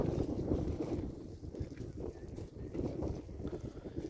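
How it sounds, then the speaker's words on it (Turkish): Wind blows steadily in low gusts at night on a highland plateau, buffeting the microphone with a rough, rumbling hiss and no voices. "Rüzgar sesi de geliyor."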